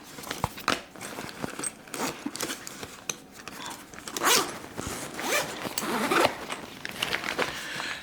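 Unzipping an AER Travel Pack 3 backpack, a long run of close zipper rasps with brief pauses and some fabric rustling between pulls.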